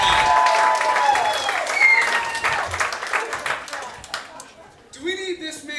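A crowd at a mayoral candidate's election night event cheers and claps loudly with whoops and shouts, and the applause tapers off as a voice begins speaking over the fading noise.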